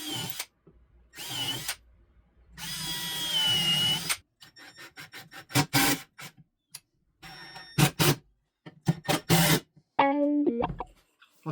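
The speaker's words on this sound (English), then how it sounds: "I'm drilling holes to mount these braces to the rockers" Power drill boring holes in wooden rocking-horse rockers to mount braces, several separate high-pitched whirring bursts of varying length, close and loud, with short pauses and tool handling between them.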